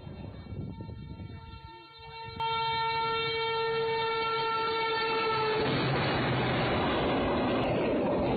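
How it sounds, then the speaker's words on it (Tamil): A train rumbles across a railway bridge, its horn sounding in long steady tones before a broad roar of wheels and carriages swells up close and loud. "ரயில் தங்களை நெருங்கி வந்த பொழுது"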